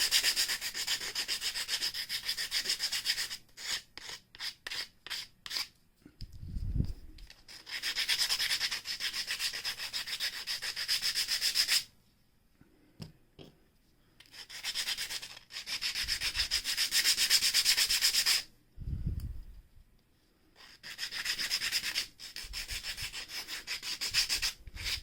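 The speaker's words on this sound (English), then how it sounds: "Sanding's so much fun to watch." Small wooden pieces for a 1/12 scale weapons crate are sanded by hand in long bursts of close, steady scratchy rubbing, broken by short pauses and a few soft sniffs.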